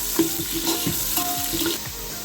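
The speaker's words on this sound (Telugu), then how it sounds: "ఈ 2 ఉల్లిపాయలు, 4 పచ్చిమిర్చి, ఉల్లిపాయలు ఫ్రై చేసుకున్నామండి ఎర్రగా" Onions and green chillies sizzle and crackle in a hot pan, with rhythmic stirring scrapes repeating every half second or so, close and steady with no talk.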